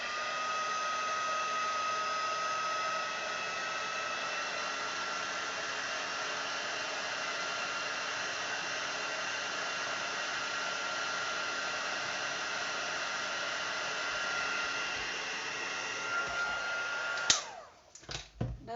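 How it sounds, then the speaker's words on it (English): A heat embossing tool blows hot air in a steady, loud whooshing drone for nearly eighteen seconds, then cuts off with a click and a few faint handling noises. "you'll see that I move my heat tool, keep it moving."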